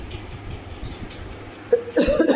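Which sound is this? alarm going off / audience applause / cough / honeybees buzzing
cough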